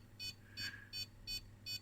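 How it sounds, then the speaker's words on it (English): A switching power supply beeps in a steady series of five short, evenly spaced electronic tones while detecting a short circuit from a very low-resistance load, with faint background hum. "So the beep beep here is actually the power supply complaining."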